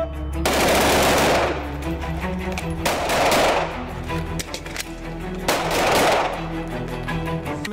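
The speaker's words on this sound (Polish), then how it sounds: "Postrzelamy piątkę i tripletami z broni krótkiej z wymianą z magazynka" Handguns fire during a tactical shooting drill of five-shot strings and triplets with magazine changes: loud, close, rapid cracks arrive in three dense volleys, with short pauses between them and no talking.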